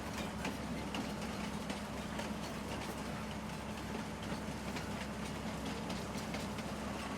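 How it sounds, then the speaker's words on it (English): Steady rolling rumble of a high-speed train in Farming Simulator 19, an even wash of rail noise lasting the whole stretch without any talking. "Pretty high-speed train."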